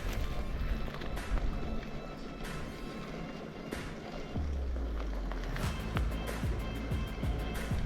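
A brushless Traxxas TRX4 RC crawler creeps slowly up a steep, off-camber hill, giving a steady low motor drone with faint whine over outdoor background noise, holding an even pitch throughout.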